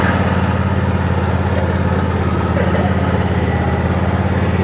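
A riding lawn mower engine drones loud and close at a steady, unbroken pitch while towing a yard cart, with no pauses or talk over it.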